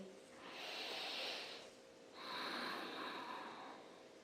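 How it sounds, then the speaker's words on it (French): Two long, deep breaths, a slow inhale then a full exhale, close and fairly loud with a soft airy hiss and a short pause between them, no talking. "sentez comme ça fait du bien de juste respirer"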